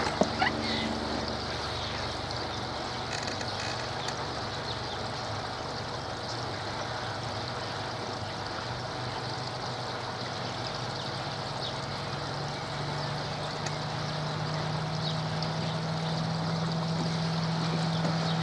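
A 10,000 litre koi pond pump runs flat out, a steady low hum and watery rush that holds even and unbroken throughout.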